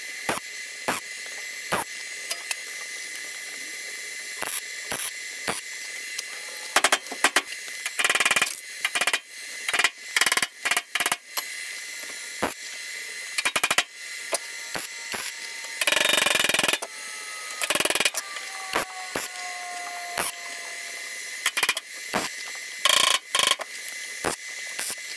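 Tack welds go onto a K5 Blazer: short crackling, buzzing bursts start and stop repeatedly, with one longer sustained weld near the end and quiet gaps between.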